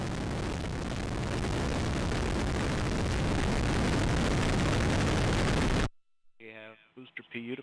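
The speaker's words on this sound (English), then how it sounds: "We have RD-180 ignition, and we have liftoff of the United Launch Alliance Atlas V rocket" A United Launch Alliance Atlas V rocket with an RD-180 engine lifts off on the NROL-55 mission with a loud, sustained roar that cuts off abruptly after about six seconds, followed by a voice speaking.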